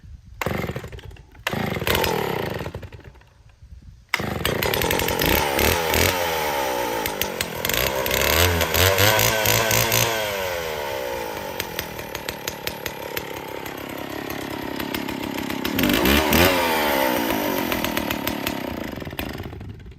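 Cold start of an old Stihl 041 chainsaw: a couple of quick rope pulls with short sputters, then the engine catches and runs loud and close, revving and settling into a rough, rattling idle with occasional throttle bursts.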